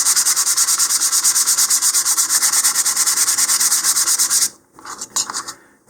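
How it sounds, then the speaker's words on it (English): Rapid, rhythmic back-and-forth scratching of 150 grit sandpaper rubbing on wood, loud and close, breaking into a few slower strokes at the end. "I'm going to start by sanding with some 150 grit sandpaper here"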